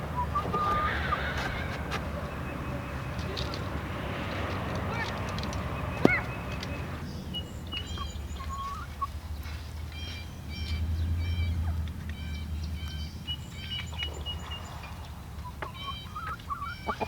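Chickens cluck and honk on and off inside a coop against a low, steady background rumble, with a few short, sharp calls scattered throughout.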